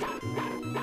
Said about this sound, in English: But Boney is barking.